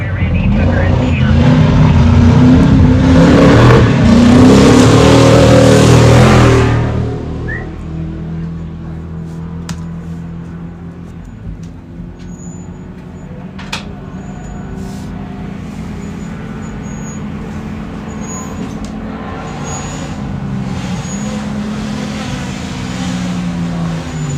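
Off-road comp race truck crossing the start-finish line at the High Desert 100 in Powell, Wyoming, a loud engine roar for the first seven seconds that drops away into a quieter, steady background rumble with distant vehicle noise.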